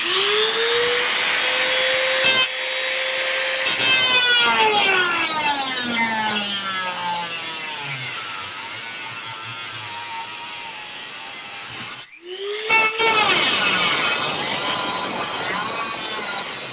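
Power tool cutting a square instrument hole in aluminum sheet, a loud close whining cut with pitch that sweeps downward and rises again, stopping briefly before a second burst.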